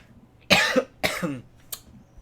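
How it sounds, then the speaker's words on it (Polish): Three sharp coughs from one person, two strong bursts in quick succession followed by a shorter, fainter one, close to the microphone with no talking. "czemu ja taki kaszle?"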